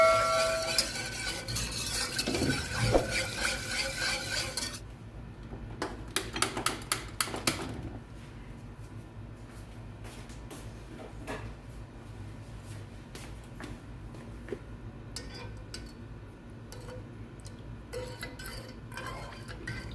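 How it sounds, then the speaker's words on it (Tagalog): Utensil scraping and clinking against a pan as chopped garlic and onion are stirred, with a sizzling hiss early on, then scattered taps and scrapes in quieter stretches. "At ilagay na rin natin yung chopped na garlic at onion. Ihalo-halo lang natin."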